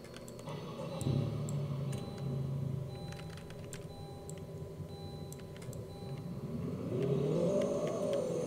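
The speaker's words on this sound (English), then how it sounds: "so you guys can hear these cold starts" A car engine cold-starts and revs, with a low rumble that swells and climbs in pitch near the end, alongside faint ticking, close by and on its own without talk.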